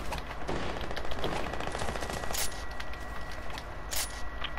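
Rapid automatic gunfire in an online shooter video game with a laggy connection, dense bursts of shots crackling continuously near and loud, with no talking over it.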